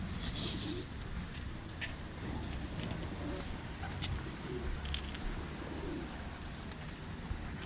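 Rooftop pigeons on a platform above a shanty house coo softly and steadily, low throaty calls running through the whole stretch against an even outdoor background, with a few faint higher chirps and no talking.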